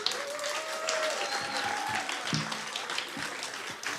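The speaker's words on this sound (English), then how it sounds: "So big round of applause" A festival audience bursts into a dense, continuous round of applause, moderately loud and sustained for the whole stretch with scattered individual claps and crowd noise.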